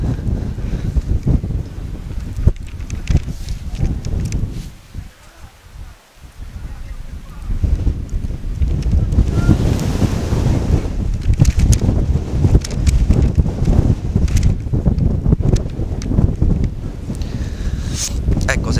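Strong wind buffets the microphone at an outdoor amateur football match between Suio Minturno and Mistral Gaeta, roaring in loud, uneven gusts with one brief lull partway through.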